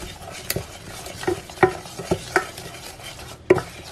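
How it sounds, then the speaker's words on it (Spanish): Rapid whisking of egg into sugar and butter in a bowl, a run of sharp utensil strikes against the side spaced a fraction of a second apart, close and fairly loud over a faint background hiss. "Vamos a batir rápidamente para que el huevo no se cocine, sino que se integre muy bien al azúcar y a la mantequilla"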